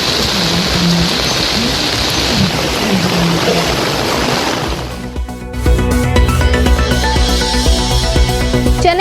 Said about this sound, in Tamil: KK நகர் உள்ளிட்ட பகுதிகளில் மழை.